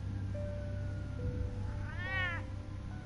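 A cat in Batman: The Telltale Series gives a single drawn-out, rising-and-falling meow midway, heard clearly over a low background hum with faint tonal game ambience and no talking.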